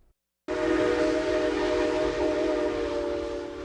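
Steam whistle of the Southern Pacific 745 locomotive near New Orleans, a loud sustained chord-like blast that starts abruptly after a short silence and holds steady throughout, with rail rumble beneath.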